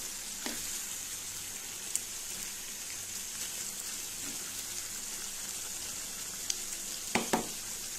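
Chittagong-style beef kala bhuna sizzles steadily in a pot, a soft even frying hiss with a few sharp scraping knocks from stirring near the end, no voices.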